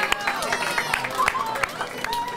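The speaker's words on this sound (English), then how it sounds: "Give Izzy a round of applause, everyone." A high school poetry slam audience applauds and cheers, a dense wash of clapping with sharp individual claps and crowd voices sustained throughout.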